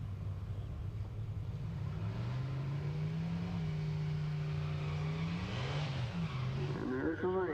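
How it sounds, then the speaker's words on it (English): A drag racing car doing a burnout at a drag strip event. Its engine drones and rises in pitch, building into a loud tire squeal near the end, heard alone against a steady roar. "A little burnout from Nipper."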